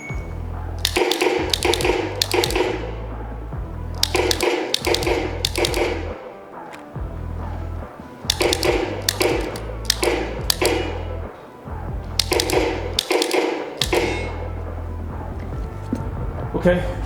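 Dry-fire shots on a Laser Shot shooting simulator with a curved screen, running an India practical shooting package: loud, crisp clicks in quick bursts of two and three, with short pauses between strings of fire.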